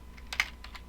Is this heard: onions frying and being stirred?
no